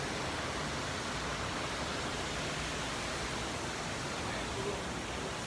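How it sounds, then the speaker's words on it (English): A waterfall outside a restaurant produces a steady, broadband roar of falling water that stays even and unbroken throughout, with faint voices underneath. "See the waterfall in the background."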